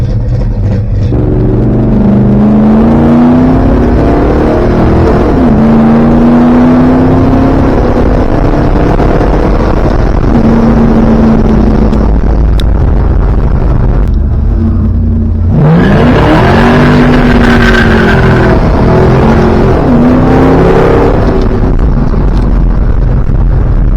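A car engine running on newly fitted colder spark plugs, loud and close as it drives, rising and falling in pitch through repeated accelerations with wind noise.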